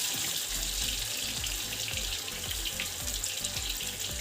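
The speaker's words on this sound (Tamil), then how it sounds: "மீன் கழுவும் போது எப்போயுமே மஞ்சத்தூளும் உப்பும் போட்டு கழுவுனோன்னா அந்த மீனோட கவுச்சி வாசம் இருக்காது." Fish rinsed under a running kitchen tap, a steady close rush of water splashing into a sink with small irregular handling sounds throughout, no talk.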